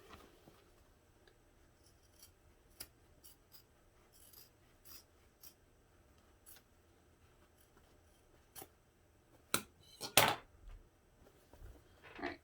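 Scissors snip fabric corners and side panels while sewing a zippered bag, quiet intermittent cuts with occasional louder rustling and handling near the end, close and sparse.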